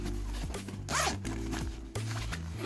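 A zipper on a side pocket of a Ghostek NRGBag Pro charging backpack is run open or closed in one quick, close, rasping pull, with steady low background hum throughout.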